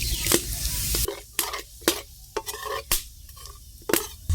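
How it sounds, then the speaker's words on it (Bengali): Whole cumin seeds hit hot oil in a kadai, giving crackling sizzle bursts between sharp, irregular spatula clacks against the metal pan, close and fairly loud, no voices. "গোটা জিরে ফোড়ন দিয়ে দিচ্ছি।"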